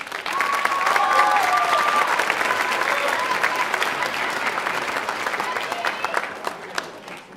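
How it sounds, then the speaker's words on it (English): Applause from a school auditorium audience for a sixth grade middle school chorus at a holiday concert, a loud sustained wash of clapping with some crowd voices mixed in, slowly fading toward the end. "Give them a big round of applause."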